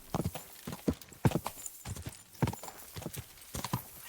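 A horse is ridden in Kingdom Come: Deliverance 2, giving a steady, close clip-clop of hooves in an even trotting rhythm with no talk over it.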